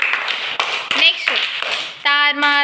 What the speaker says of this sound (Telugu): వెరీ గుడ్ క్లాప్స్ చూడండి